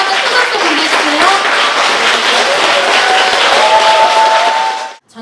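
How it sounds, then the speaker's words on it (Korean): An audience at a traditional Korean music concert claps in a thick, steady burst of applause that holds for a few seconds and then cuts off abruptly. "여러분 다시 한번 큰 박수 보내주세요"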